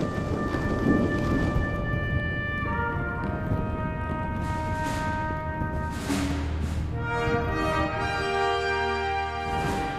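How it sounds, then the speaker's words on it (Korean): Steady heavy rain pours throughout a nighttime thunderstorm in Costa Rica while deep thunder rumbles underneath, with a faint bell-like ringing tone sustained over the downpour. "밤에 천둥, 번개가 치는 모습도 환영쇼처럼 보입니다."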